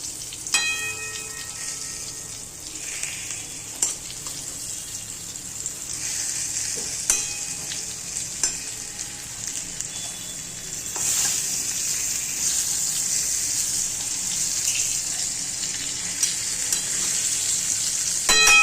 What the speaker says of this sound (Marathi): तर आता आहे ना ही अशा पद्धतीने व्यवस्थित भाजून द्यायची आहे.